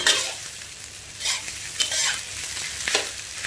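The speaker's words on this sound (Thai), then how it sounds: "นี่นะคะทำการผัดข้าวเลยค่ะ" Rice stir-fried with fermented pork (naem) in a pan: a continuous sizzle with scraping and tossing strokes of the spatula surging every second or so, close and fairly loud, with no voices.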